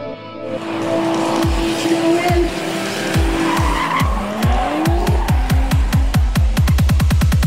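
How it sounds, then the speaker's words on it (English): Cars drift at a stunt show with loud, sustained tire squeal and revving engines, the screeching coming in repeated surges that grow faster and more rhythmic toward the end, with no talking. "Let's see how they get on as part of the Maximum Lot Drifting and the Terry Grant Stunt Show."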